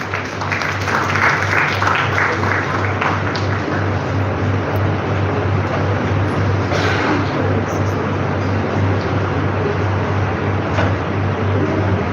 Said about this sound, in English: Please, a huge round of applause for them.